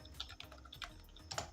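Keys clatter on a computer keyboard as product names are entered into an Excel billing sheet on Windows, with quick irregular clicks close by and no talking.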